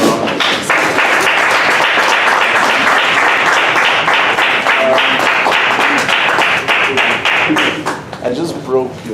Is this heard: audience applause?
yes